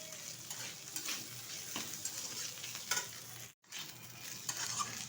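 Pangas fish bhorta cooking in a pan on high heat, a steady close sizzle and frying hiss with stirring scrapes throughout, briefly cutting out for a moment near the end before resuming.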